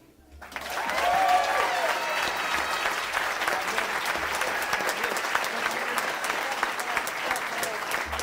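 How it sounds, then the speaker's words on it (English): Sustained audience applause at a graduation commencement ceremony in Southern California, swelling in after a brief quiet start and holding steady as a dense wash of many hands clapping throughout. "Let's give another round of applause to both our valedictorians"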